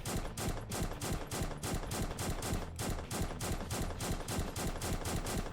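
An SPR-12 single-shot rifle fires in the video game One Armed Robber, with loud shots cracking in a fast, steady series throughout.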